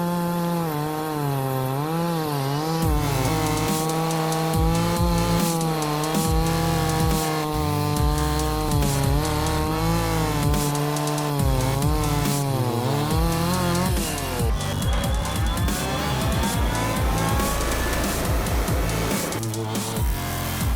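A Stihl 036 chainsaw runs loud and steady close by as it cuts through wood, its engine pitch rising and falling with the load, with no talk.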